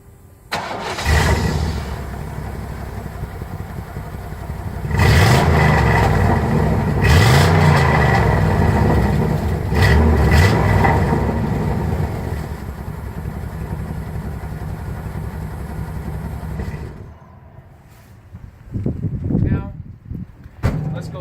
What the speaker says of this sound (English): I'll go ahead and fire the truck up for you.